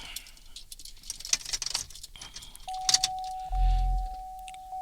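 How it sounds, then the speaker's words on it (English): Car key jingling and clicking as it is handled and turned in the ignition of a Hummer H2, followed by a steady electronic chime tone and a low rumble as the system powers on. "Let me grab my key here and turn it on so you guys can see."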